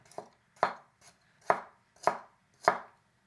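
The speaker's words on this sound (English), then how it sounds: "we'll use the 8-inch chef knife on this carrot right here." An imarku 8-inch chef knife slicing through a carrot onto a board, six sharp, rhythmic cuts about half a second apart, close and crisp.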